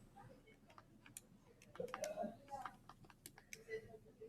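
Fingers tapping keys on a calculator keypad to enter a square-root expression, a quick run of faint, close, irregular clicks, with soft voice sounds in the background.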